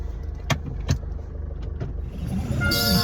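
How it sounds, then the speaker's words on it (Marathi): A car sits in morning road traffic near home, its engine a low steady rumble. A few sharp knocks and clicks come from inside the car, and road noise and a higher whine build toward the end. "घरापाशी ट्रॅफिक लागलं, खूप सारा ट्रॅफिक आहे आज"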